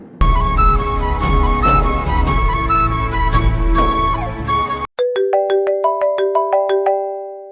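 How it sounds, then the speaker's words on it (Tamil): A loud electronic phone ringtone plays a busy melodic tune, then switches to a cleaner series of bright repeating chime notes. "யார் ஃபோன் பண்றா"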